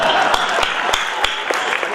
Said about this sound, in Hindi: मैं जैसे ही देखती हूँ मिश्रा जी ताली बजाने लगती है।